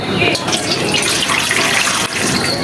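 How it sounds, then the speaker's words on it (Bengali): Water pours and splashes steadily, as from a tap, while whole tomatoes are washed before being mashed for a rooftop tomato bharta. The flow is close and fairly loud, with faint voices in the background. "এখন আমরা টমেটোগুলো ধুয়ে নেবো আগে ভর্তা করার আগে ধুয়ে নেবো"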